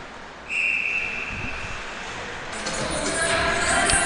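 A referee blows one sustained whistle blast at a high school junior varsity ice hockey game between Omaha and Ames to stop play for icing, heard over steady arena crowd noise that swells afterward.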